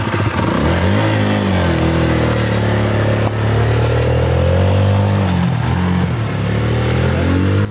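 A motorcycle engine running close by, loud and continuous, its steady drone dipping and rising in pitch a few times as the throttle shifts.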